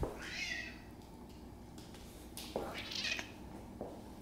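A pet cat named Willie meows twice indoors, close by, with short high-pitched calls a couple of seconds apart over quiet room tone.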